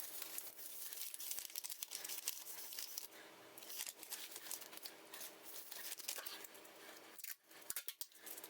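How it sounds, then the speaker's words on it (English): Tape pulled and pressed onto Tyvek house wrap sheets while building an emergency shelter: continuous close crinkling and rustling of plastic sheeting with scattered sharp crackles and taps. "Taping is a bit tricky."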